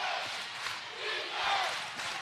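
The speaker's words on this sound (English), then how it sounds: "Crowd into it big time now as Stahl goes cross court to Davis." At a girls high school basketball regional semifinal, a gym crowd cheers and shouts in rising waves, moderately loud, with rolling swells of voices through the short stretch.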